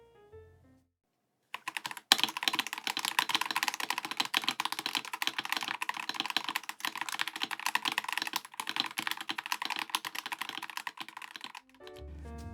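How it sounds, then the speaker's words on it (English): Typing on an LTC NB841 Pro wireless, hot-swap mechanical keyboard: a fast, steady run of close, crisp key clacks lasting about ten seconds, with brief quiet before and a few soft handling sounds at either end. "But how good does this board sound?"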